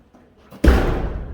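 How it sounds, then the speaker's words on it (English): A barn door shut with a single heavy slam, a deep thud that rings on briefly, preceded by faint shuffling. "let me shut this door real quick"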